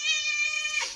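A human voice imitates a cat's meow, one close, loud, drawn-out mewing cry that slides downward and fades at the end.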